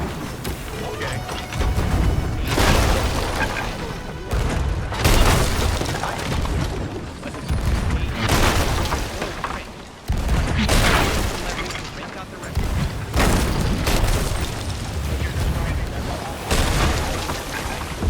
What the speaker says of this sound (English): Just love how they just go full hard toggle with their cannons